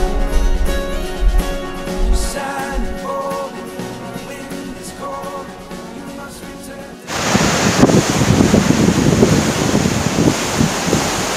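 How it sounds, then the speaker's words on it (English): Music plays first, then the large Abdullaha waterfall at Darhal takes over with a loud, continuous rushing roar of falling water heard close up. "काफ़ी बड़ा waterfall है and इसका शोर भी काफ़ी ज़्यादा है"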